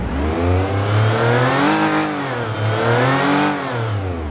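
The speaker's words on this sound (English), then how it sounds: "which I'll rev it up to you right here" A car engine, recorded by its owner, revs up and drops back twice, its strong harmonic drone climbing and falling in pitch in two clear sweeps, loud and close with no talk over it.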